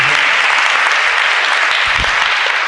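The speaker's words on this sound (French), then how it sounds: "il faut l'applaudir" Dense, sustained applause from a school audience fills the whole stretch, loud and even with no pauses.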